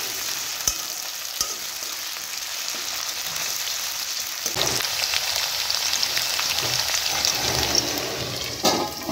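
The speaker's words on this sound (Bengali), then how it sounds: "আলুটি আমাদের ভাজা হচ্ছে" Potato pieces sizzle steadily in hot oil in a pan, a continuous crackling fry with a few sharp clicks from stirring, close and moderately loud.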